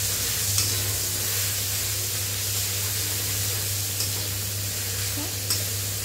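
Ginger and green chili paste fries in a hot pan with a steady close sizzle, broken now and then by faint scrapes of stirring, with a low hum underneath.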